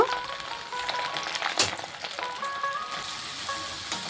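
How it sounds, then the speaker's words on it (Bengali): Whole garlic cloves frying in hot oil with dried chili and cumin, a steady close sizzle with a sharp crackling burst near the middle, no voices. "রসুনটাকে একটু লাল লাল করে ভেজে নেব"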